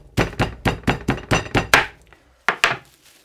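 Lamb chops for tandoori being pounded flat, a run of seven quick, heavy thumping blows in steady rhythm, then a short pause and two more strikes, close and loud with no talk.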